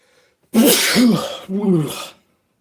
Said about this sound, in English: good old sneeze.